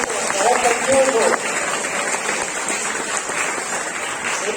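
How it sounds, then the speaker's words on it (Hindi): Loud, sustained clapping from a crowd of children and parents at an Independence Day celebration, a dense broadband patter that swells early and carries on steadily while a voice talks over it. "बहुत बहुत जोरदार तालियां।"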